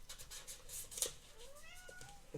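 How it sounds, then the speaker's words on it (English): A cat meows from outside a door, a short mewing call rising and falling partway through, fairly faint against a quiet indoor room with light background noise. "you can hear her meow"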